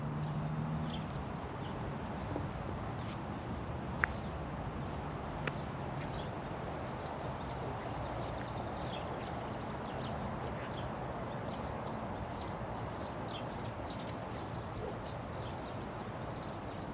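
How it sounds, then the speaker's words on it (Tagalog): Assorted birds chirp and tweet in short scattered calls over a steady broadband wash of riverside ambience, fairly faint and with no talking. "Sari-saring ibon ng mga nandito"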